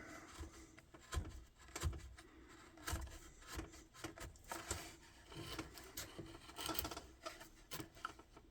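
Small chisel cuts paring tiny ridges off a basswood bowl, a close run of soft rasping scrapes and light rubs in irregular bursts, fairly quiet with no talking.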